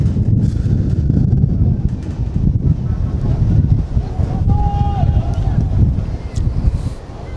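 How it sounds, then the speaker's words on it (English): Wind buffets the microphone at an outdoor charity football match, making a loud, continuous low rumble that rises and falls through the whole stretch, with faint sounds from the match behind it. "The wind's causing a bit of havoc here."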